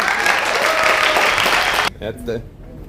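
Crowd applauding a backflip at a casual outdoor gathering in Sweden, steady dense clapping that stops abruptly near the end, followed by brief nearby talk.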